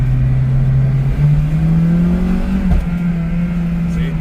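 Acura RSX with an automatic transmission and paddle shifters holds high RPM, its engine note climbing steadily in a loud, sustained rev from inside the car before a brief dip and recovery, with no speech over it.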